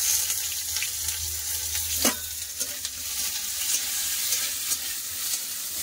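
Onions fry in hot mustard oil with five-spice, dry red chillies and bay leaves, giving a continuous close sizzle with occasional stirring knocks and clatters against the pan.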